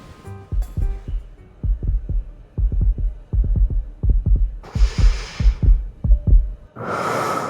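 Heartbeat sound effect in the Love and Deepspace game: a steady run of deep, close double thumps repeating for several seconds, with soft hissing breath-like swells breaking in near the end.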